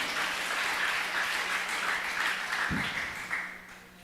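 A church congregation applauds in a steady, even clatter of many hands that carries through most of the stretch, then tapers off toward the end after a low thump.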